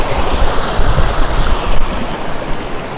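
River water rushes through Kadiya Dhro canyon in Kutch as a loud, steady, churning roar with gusty wind buffeting across it.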